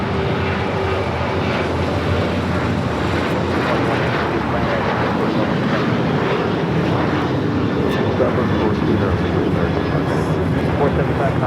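An airliner bound for Chicago O'Hare powers along at Los Angeles International Airport, a loud, continuous broadband engine roar that holds steady from start to finish, with faint voices mixed in.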